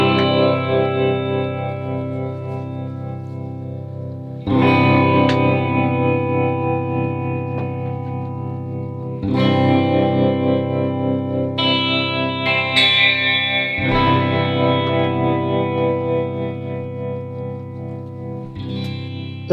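Guitar amp signal run through a metal plate reverb machine, sustained chords with a shimmering, chorused and slightly distorted wash that swells anew every few seconds, loud and continuous with long reverberant tails.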